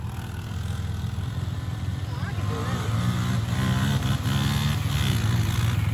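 A Polaris Big Boss 6x6 engine revs steadily through a wheelie, a sustained motor drone that rises slightly and holds loud throughout, with people talking over it.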